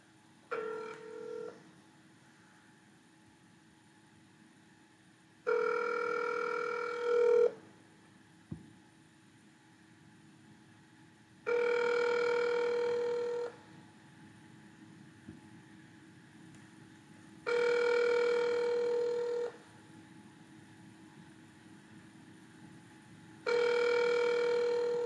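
Phone ringback tone on an outgoing call, four evenly spaced rings of about two seconds each with long quiet gaps between them, heard clearly with no talk.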